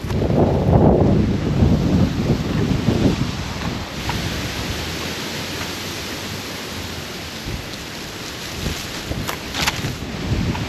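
Wind blows outdoors on a hike near a park with a rock climbing feature, buffeting the microphone in loud low gusts at first, then settling into a steady rushing noise.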